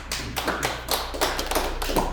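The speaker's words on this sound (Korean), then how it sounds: "박수로 환영하겠습니다" A church congregation applauding to welcome a pastor to the front, many hands clapping steadily at close range for a couple of seconds over a faint low hum, with no talking.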